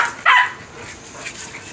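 A small dog and a big dog play-fight, with one short sharp yip or bark standing out briefly above a quiet background.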